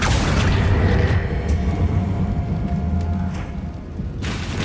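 The Confringo explosive spell in the video game Hogwarts Legacy lands as a loud, deep boom close by. A rumbling tail fades over several seconds, and a second softer burst follows near the end.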